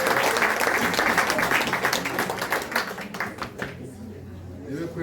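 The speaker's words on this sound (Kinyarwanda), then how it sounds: "mwamumpereye amashyi y'umugabo" A live audience at a community gathering in Mayange, Rwanda breaks into loud, sustained applause for a man, dense clapping that fills the first few seconds before thinning out and fading.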